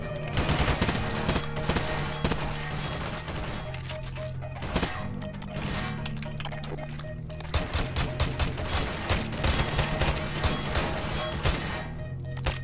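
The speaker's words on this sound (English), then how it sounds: "we're getting shot from fucking everywhere" Enemy gunfire in a video game fight at a mining outpost: heavy, sustained volleys of automatic fire from several directions, loud and continuous, with occasional sharper individual cracks.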